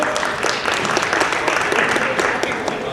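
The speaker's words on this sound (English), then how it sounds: "You guys can hold your applause to the end" Audience applause at a high school signing day event, a steady dense wash of many hands clapping filling the room, with some voices mixed in.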